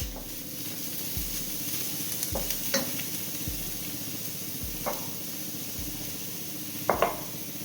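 Curry leaves and turmeric sautéing in a pan for a home lunch dish, with a steady soft sizzle broken by regular scraping strokes of a spoon stirring about every second, plus a couple of sharper clinks near the end.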